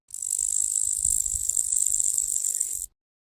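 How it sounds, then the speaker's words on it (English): A grasshopper chirps in a dense, high, continuous trill with a faint rattling texture, close and steady for nearly three seconds before stopping abruptly. "grasshopper"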